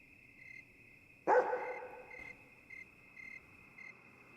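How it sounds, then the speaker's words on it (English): A single dog bark rings out in Yomawari: Night Alone, a night-time exploration game, loud and sharp against a steady chirping cricket drone that keeps pulsing softly afterwards. "I hear a dog barking"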